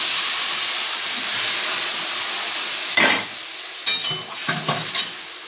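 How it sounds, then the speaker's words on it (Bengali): Boiled vegetable broth is poured into a pan of frying ginger-cumin paste, and a steady hiss and sizzle is broken by several sharp bursts of spattering as the liquid hits the hot oil. "আদা জিরেটা আমার ভাজা হয়ে গেছে, এবার এই সেদ্ধ করা যে ঝোলের সবজিটা এটা ঢেলে দেবো।"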